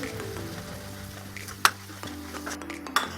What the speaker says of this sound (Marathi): इथे आपले सुक्या चिकनचा मसाला छान भाजत आहे